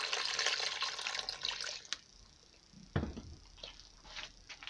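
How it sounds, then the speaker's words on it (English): Water poured into a dilute hydrochloric acid bath holding a cell phone circuit board, a close, bright stream for about two seconds, then a few quieter splashes and trickles. "I add some water."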